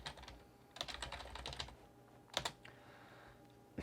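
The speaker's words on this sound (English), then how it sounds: "I can then type something." Keys clicking on a computer keyboard while typing text in the Vim editor, a quiet close run of irregular taps in two short bursts.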